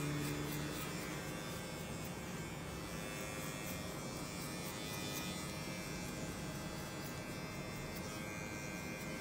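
Electric hair clipper set to 0.1 mm trimming the last stray hairs of a buzz cut, a steady close buzzing drone running unbroken throughout with no talk.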